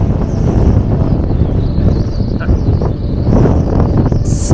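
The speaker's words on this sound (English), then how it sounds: "and the wind picks up, but it's alright comparing to yesterday" Strong gusting wind buffets the microphone at an Andorra ski resort, a loud continuous roar that swells and eases over a few seconds with no voices.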